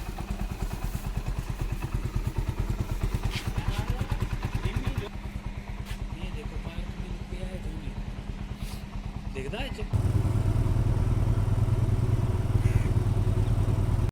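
A dew-soaked motorcycle idles nearby on a foggy morning. Its steady, rhythmic engine throb shifts in tone twice, and someone talks over it.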